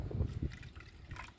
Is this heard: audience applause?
no